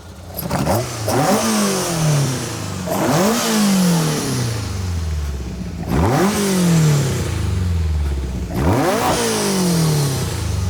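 A modified VW Golf Mk1 engine revs hard three times, each roar climbing in pitch then falling back toward idle, loud and close.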